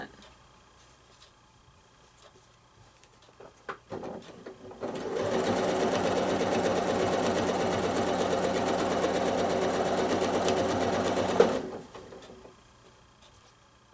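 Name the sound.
sewing machine free motion quilting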